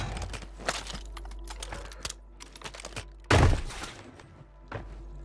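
Video game gunfire: a loud burst of shots around the midpoint stands out among scattered sharp cracks and clicks, with no talk over it.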